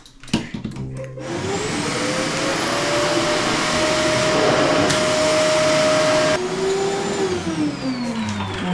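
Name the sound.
vacuum cleaner running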